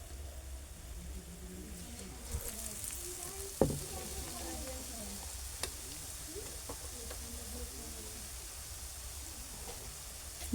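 Battered slices of garden-grown eggplant crackle in hot oil, frying into crisp beguni with a steady close sizzle and a few sharper pops as pieces drop in.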